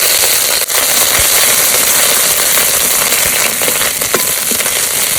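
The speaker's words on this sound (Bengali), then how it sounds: "তো ফোড়ন দেওয়ার জন্য একটু তেল দিয়ে নেবো, তেজপাতা, শুকনো লঙ্কা আর গোটা জিরে, আদা বাটা দিয়ে দেবো।" Bay leaf, dry chilli, whole cumin and ginger paste tempering in hot oil, a loud, steady crackling sizzle with scattered pops throughout.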